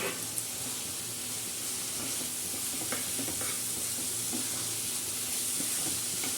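Fried okra (bhindi) being stirred into a sizzling masala in a pan: steady, loud frying hiss that continues throughout, with faint scraping and stirring strokes underneath.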